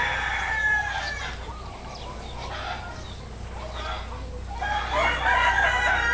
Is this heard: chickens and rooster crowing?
yes